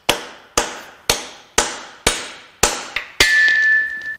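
Six sharp metallic hammer strikes drive a 12 socket onto a bolt of a Mercury Marauder 4.6L DOHC V8 at a steady pace, each ringing briefly, then a final blow leaves a sustained high metallic ring.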